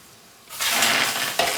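Chunks of chicken sautéing dry in a saç pan with no oil or water, a loud sizzle bursting up suddenly and holding steady, with a brief scrape of stirring near the end.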